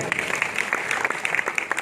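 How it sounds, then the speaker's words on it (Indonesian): A church congregation applauds during a sermon, a brief patter of scattered hand claps at moderate distance that sounds thin and sparse rather than thunderous. "Tepuk tangan dong."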